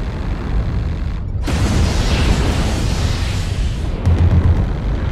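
Stored SRM and LRM missile ammunition explodes inside a battle mech in MechWarrior Online, a sudden loud roaring blast that rumbles on for several seconds with crackling bursts and low booms, close and dense.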